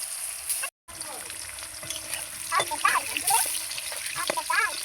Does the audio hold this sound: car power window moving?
no